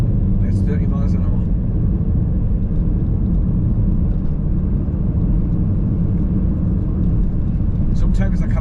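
A car pulling out and turning a corner on a 30 mph road into Ponteland, a steady engine and road rumble carrying throughout at an even level, with brief higher clicks near the start and end.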